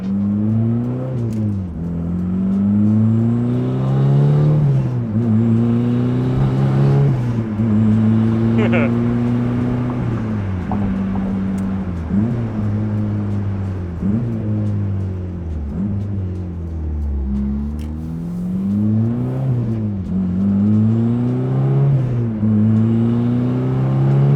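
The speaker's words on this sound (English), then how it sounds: "So I think it's time to drive this thing, test it out." A 400-horsepower daily-driver car pulls away and accelerates repeatedly, its loud engine note rising through each gear and then dropping at every shift, with a near, full-sounding exhaust.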